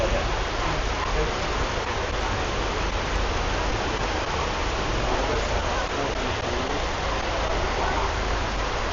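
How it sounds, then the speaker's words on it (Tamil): Rain falls at Siloso Point on Sentosa, Singapore, a dense, even hiss of steady downpour that stays constant throughout, with faint talk half buried beneath it. "எப்படி மழை பெய்யுது பாருங்க."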